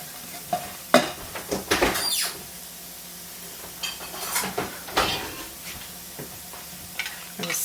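Flour cooking in fat in a pan while being stirred, giving a soft sizzle under irregular scraping and stirring strokes with occasional clinks of the utensil against the pan, close and fairly quiet with no talking.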